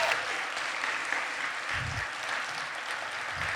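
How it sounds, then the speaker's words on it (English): Sustained audience applause at a startup finalist pitch event for a presenter named Natalia, a steady wash of many hands clapping throughout. "Let's give Natalia a round of applause."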